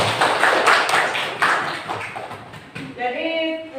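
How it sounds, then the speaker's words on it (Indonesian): A classroom of students claps together in a brief burst of applause that fades after a few seconds, followed by a voice speaking. "Tepuk tangan"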